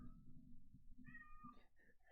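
A house cat meows nearby, a couple of faint rising and falling cries heard over a low indoor hum.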